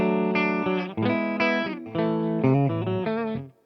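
Electric guitar played through a Laney amp set on the edge of breakup, a melodic phrase of sustained notes and chords with a slightly gritty, warm overdrive, fading out at the end, with no talking.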